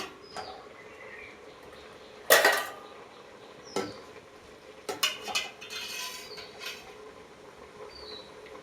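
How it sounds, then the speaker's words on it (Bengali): A metal lid is set onto a pot of prawn and fig curry, giving a sharp clatter, then a few lighter clinks and scrapes of cookware, close and fairly quiet, with no talk. "এবার আমি ঢাকনাটাকে লাগিয়ে দেখব সেদ্ধ হয়ে গেছে কিনা।"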